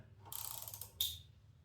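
A hand ratchet driving a tap to cut threads into a Subaru STI water pump, a short run of rapid clicking pawl ticks followed by one sharper click, close and fairly quiet.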